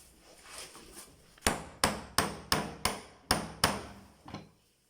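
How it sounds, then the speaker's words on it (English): Seven sharp metallic taps from a 2 millimeter hole punch being struck through material for rhinestone open-toe heels, spaced roughly a third of a second apart, each ringing briefly and decaying, after a quiet, faintly rustling start. "I'm using a 2 millimeter punch."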